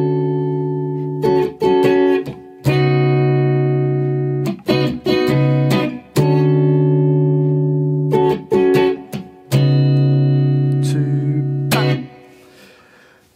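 Electric guitar plays the intro line of a song, sustained clean chords rung out in phrases with short stabs and gaps between them, close and alone with no voices.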